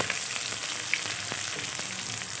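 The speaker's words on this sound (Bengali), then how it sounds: "পেঁয়াজগুলো আমি কিন্তু লাল লাল করে ভাজবো না একটুখানি ভাজা হয়ে গেলেই" Steady crackling sizzle of onions frying lightly in hot oil for a white potato curry with black pepper, close and continuous, with a couple of tiny pops.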